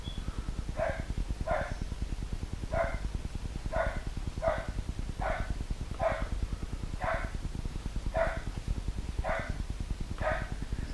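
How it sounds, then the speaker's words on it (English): A dog barks repeatedly in a steady series of about a dozen sharp barks, somewhat distant, over a low constant background hum. "He's barking at everything."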